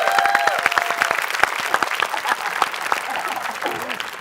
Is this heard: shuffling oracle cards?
no